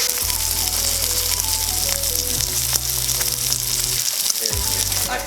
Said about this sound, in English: That's a good sizzle.